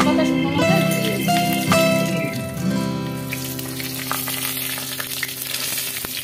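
Bay leaves and dried red chillies sizzle and crackle in hot mustard oil, loud and close, a dense frying hiss with scattered pops that gradually settles.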